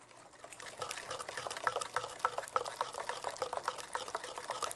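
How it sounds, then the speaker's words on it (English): A spoon stirs eggs into wet cake batter in a bowl, making soft, repeated sloppy squelches and clicks at close range, with no talking. "Just stir those in as well."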